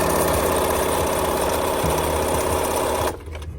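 A Bernina 1230 sewing machine, freshly repaired after motor damage, runs in a loud continuous close-up mechanical whir with rhythmic needle knocking, then stops abruptly near the end, no talking.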